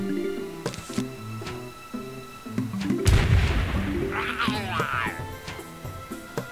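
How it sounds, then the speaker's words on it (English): A cherry bomb detonates in the Plants vs Zombies video game, a single loud low boom bursting up midway through and fading over a rattling burst, set against looping game music and small effect sounds. "You wanted me to put a cherry bomb."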